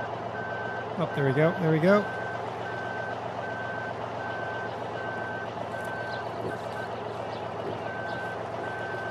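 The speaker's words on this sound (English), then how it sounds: "I've successfully failed backing this truck in" Truck backing up in Farming Simulator 2013, steady electronic reversing beeps repeating at an even rhythm over engine drone, with someone talking briefly near the start.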